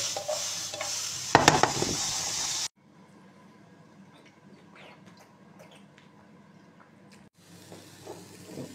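Garlic being stirred in a pan for an oyster mushroom paprikash, a brief loud burst of sizzling and scraping at first, then only quiet, sparse clinks and light frying.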